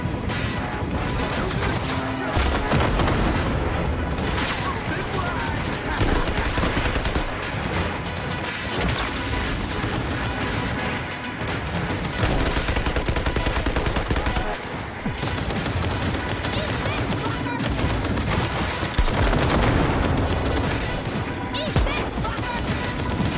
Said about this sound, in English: Flashbang! Flashbang!